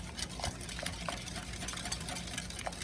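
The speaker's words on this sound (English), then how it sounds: "now we're going to start adding our milk in a very slow stream, whisking constantly" Whisk stirring against a pot while milk is slowly poured in, a steady soft scraping and light liquid swishing running close throughout with no talk.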